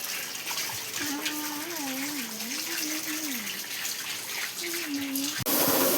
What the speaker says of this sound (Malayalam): ഇതാ സുൽത്താന ടേബിൾ കഴുകുന്നു.